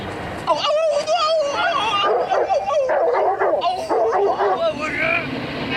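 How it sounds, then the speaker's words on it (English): A dog named in a boxing drama whimpers, yips and barks close by in an excited burst over a few seconds, with people talking at the same time. "So first the dog, Butkus."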